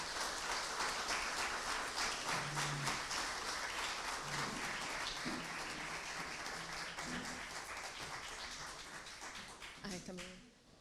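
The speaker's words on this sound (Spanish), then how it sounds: "A ustedes les pido por favor un aplauso para nuestros panelistas" Audience applause for the panelists at the close of a book launch on fishing policy in Chile, a broad steady patter of many hands lasting about ten seconds under scattered talk, fading at the end.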